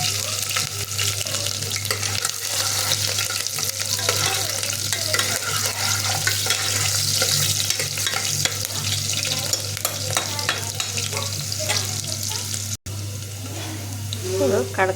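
Onions and green chillies frying in a pan give a loud, steady close sizzle with stirring scrapes throughout, broken by one brief dropout near the end and a short clatter after it.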